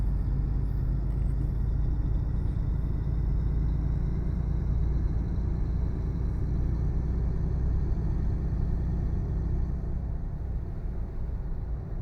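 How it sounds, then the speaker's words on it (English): A truck in a driving game climbs hills in low gear, its engine holding a deep, steady rumble that stays loud and constant from start to finish. "I'm in 7 low now and I'm powering up the hills"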